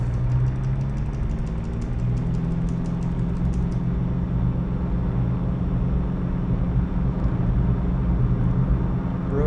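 A Carenado F33 single-engine aircraft in the X-Plane flight simulator drones steadily at takeoff throttle, a loud, continuous, low propeller hum, with faint rapid clicking near the start.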